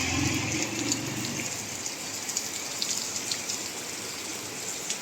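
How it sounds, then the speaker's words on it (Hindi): Heavy rain falls steadily outdoors in dark stormy weather, a dense continuous hiss with scattered drop impacts and a brief low rumble at the start, with no talking. "कितनी तेज बारिश आ गई है।"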